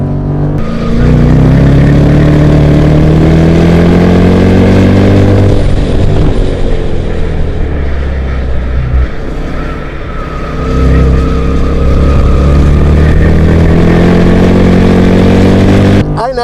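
A 2014 Jeep Grand Cherokee SRT engine roars continuously at full throttle around the Formula 1 race track in Austin, Texas, loud and close with rising and falling pitch through gear changes, a brief dip midway.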